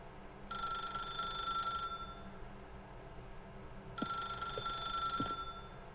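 An old-style telephone bell in The Stanley Parable rings in two bright, buzzing bursts separated by a pause, over a low room hum with soft clicks at the end.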